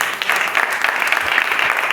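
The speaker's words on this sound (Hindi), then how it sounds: "आप ताली दे सकते हैं?" A church congregation at a worship service claps together, a steady wash of dense applause from many hands that holds for a couple of seconds.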